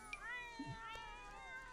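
Cats in the game The Sims 4 meowing in a drawn-out, wavering call at close range over quiet game ambience, with a couple of brief soft effects.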